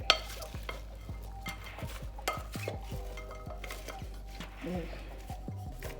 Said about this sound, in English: So it's best to mix it up good before you add your sauce to it, your liquid sauce.